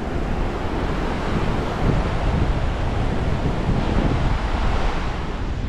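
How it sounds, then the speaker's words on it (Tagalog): Strong ocean waves crash steadily on a beach, a loud continuous roar of surf mixed with gusting wind buffeting the microphone. "Delikado pag ganyan kalakas ang alon."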